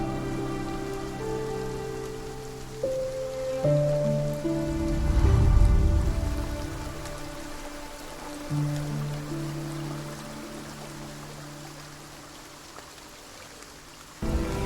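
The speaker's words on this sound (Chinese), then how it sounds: "下这么大雨" Heavy rain pours steadily with a low rumbling surge in the middle, while sustained musical tones hold underneath.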